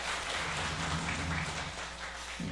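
A Korean church congregation at a Sunday morning service claps together to praise members who finished their reading, a brief even wash of applause in the sanctuary.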